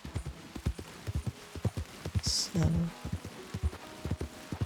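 Hooves of a big black horse clip-clop at a steady walking pace in Red Dead Redemption 2, with a short whinny partway through and someone speaking briefly over it.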